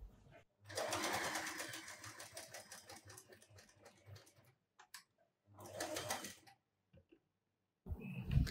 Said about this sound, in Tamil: கடைசியாக முடிக்கும் போது ஒரு லாக் ஸ்டிச் போட்டு அதை முடிச்சிடலாம்.